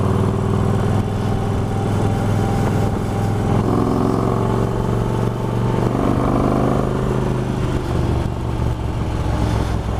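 A car engine with a stage one upgrade, rumbling loud and close in a steady, deep drone that holds without pause, with slight shifts in pitch as it runs.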